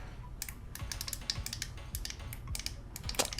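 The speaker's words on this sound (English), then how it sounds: "the D-pad is clicky, and it's the loudest D-pad I've ever heard in my life" Sharp, irregular plastic clicks from the D-pad of a Lenovo Legion Go handheld console, close and crisp, tapped in quick bursts with brief gaps.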